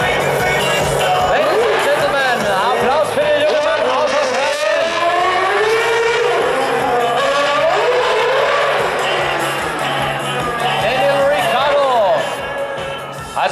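A Red Bull race car runs through Vienna's Rathausplatz during a street showrun, engine screaming loudly with fast rising and falling pitch sweeps, while a German-speaking commentator talks over it.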